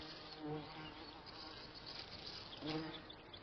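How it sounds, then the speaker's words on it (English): Furry bumblebees buzzing in the Arctic summer, a steady close hum with one or two louder passes as a bee flies near the microphone, with no voices. "Pollinating insects are abundant at this time of the year, especially furry bumblebees."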